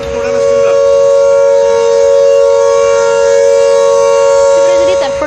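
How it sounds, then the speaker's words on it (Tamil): A loud, steady civil defense air raid siren in Chandigarh, India, wails continuously with a sustained tone, filling the whole stretch without interruption. "குறிப்பாக ஏர் சைரன்கள், அபாய ஒலி எச்சரிக்கை என்பது தற்பொழுது எழுப்பப்பட்டுள்ளது"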